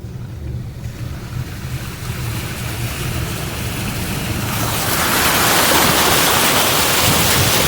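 A boat heads home across open water toward Komyshany. Rushing water and wind noise swell steadily louder and more forceful as it moves, with no voices over the wash.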